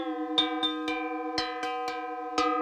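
A u-he Metaphorium synth patch sweeping through its wavetable: a sustained, harmonically rich bell-like tone with a steady low drone, struck by repeated metallic cowbell-like attacks at an uneven rhythm, loud and close with no talking.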